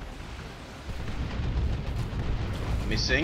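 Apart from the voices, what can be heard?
stick bomb explosions in video game Dawn of War 2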